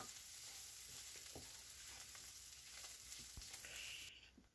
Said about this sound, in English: Keep that beef stirred.